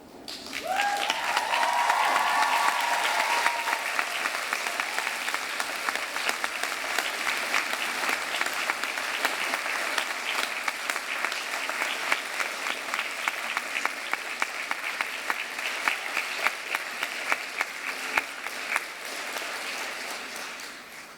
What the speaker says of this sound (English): give them a huge cheer and round of applause